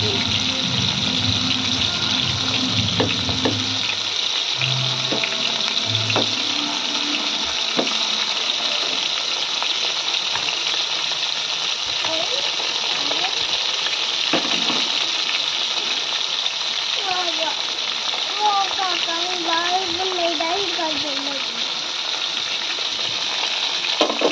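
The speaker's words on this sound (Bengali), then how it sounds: "এদিকে এটা ফ্রাই হোক" Chicken pakoras frying in oil, heard as a steady broad hiss that sounds much like running water, continuous and fairly loud, with a faint voice in the background.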